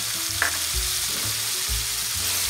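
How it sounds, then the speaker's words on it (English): Ground beef seasoned with adobo, onion powder and black pepper fries in a pan, a steady close sizzle broken by a few scraping stirs of a utensil, with no talking. "you want to cook your ground beef until it's all brown"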